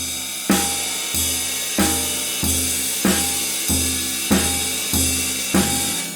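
Ten muffled bass drum hits land at a steady, even pace, each a short, dull thud with little ring and no other sound between.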